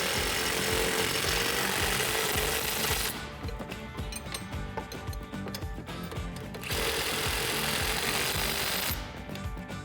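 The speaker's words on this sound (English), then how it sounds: "now we can grab our socketed wrench and tighten those two down" Bolts on a 2007-2018 Silverado or Sierra 1500 being tightened with a 17 mm socket during a leveling lift kit install, a loud, rapid mechanical rattle in two long bursts with quieter clicking between, no talking.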